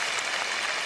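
Audience clapping in a played clip, a brief dense wash of applause from many hands, steady and fairly loud throughout.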